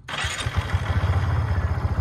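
A Kawasaki Barako 3 motorcycle engine fires up and settles straight into a steady, rapid idle, loud and close, with no talking.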